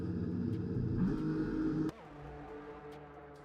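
Race cars leaving the pits in a racing video game at the Singapore circuit, a faint steady engine drone that drops abruptly partway through and then continues more quietly.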